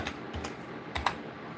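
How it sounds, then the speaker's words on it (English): Typing on a computer keyboard during a live paint-colour setup: a few sharp key clicks in quick succession, close and fairly quiet, with no voices. "Keyboard over here."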